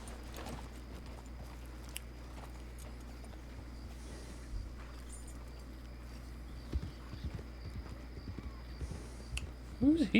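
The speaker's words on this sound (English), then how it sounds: "Oh, it's Deputy Reeves' horse." A horse's hooves clip-clopping in the RedM roleplay game, faint and irregular, under quiet talk, with a low steady hum throughout and a louder thud near the end.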